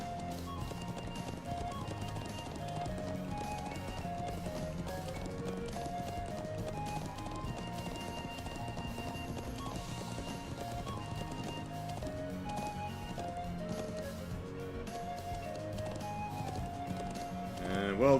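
Horse hooves clip-clop steadily while riding in the video game Trails of Cold Steel, a continuous galloping rhythm under game music throughout.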